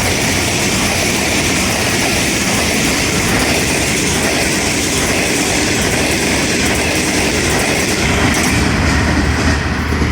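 Pakistan Railways 7 Up Tezgam passenger express, hauled by a GU20 locomotive, rushes past at night on the line toward Rawalpindi, a loud continuous roar of wheels and clattering carriages filling the whole stretch without letup.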